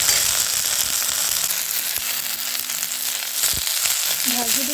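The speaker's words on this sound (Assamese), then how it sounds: "মই এতিয়া ৰঙালাও পাতকেইটা ধুনীয়াকৈ ভাজিলোঁ।" Pumpkin leaves sizzle and fry steadily in a hot pan, a loud continuous crackling hiss close by with no talking.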